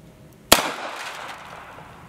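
A gunshot cracks once, sharp and loud, as a bullet strikes a stack of license plates, followed by a brief ringing, clattering decay.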